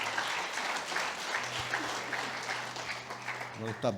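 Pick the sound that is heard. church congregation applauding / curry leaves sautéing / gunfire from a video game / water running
church congregation applauding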